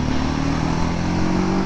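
A TVS 300cc motorcycle accelerating hard, its engine a loud, steady, close roar with a thick low drone and a slowly rising pitch, no talking over it.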